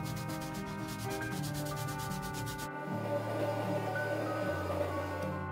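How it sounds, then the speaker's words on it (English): Sandpaper rubs rhythmically over a filled figure surface in fast, even back-and-forth strokes, a steady close scratching that shifts to a slower, coarser rasp partway through. "After that, I will grind the surface with sandpaper."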